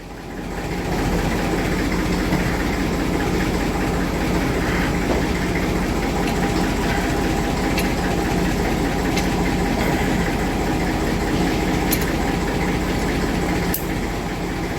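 A tractor engine runs in top gear, a steady, loud, continuous mechanical drone with rhythmic knocking that holds unchanged for the whole stretch, with no voices.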